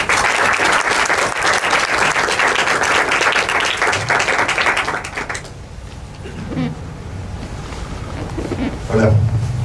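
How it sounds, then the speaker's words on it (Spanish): An audience gives a strong round of applause for a speaker, a founder of the group and a master of oratory. The clapping is loud and dense for about five seconds, then fades out under faint room noise and movement. "pido para él un fuerte aplauso"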